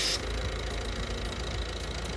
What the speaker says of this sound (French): notre produit circule et là on l'entend, il est aspiré par le moteur